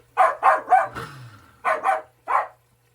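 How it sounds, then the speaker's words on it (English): A pet dog barks indoors in a kitchen: three quick barks, a pause with a faint whimper, then two more barks and a final single bark, loud and close with no talk over them. "Excuse my dog."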